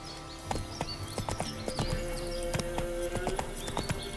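Roach, a horse in The Witcher 3, gallops with a rapid, uneven clatter of hooves. The hoofbeats stay close and steady under a faint ambient bed, and no one speaks.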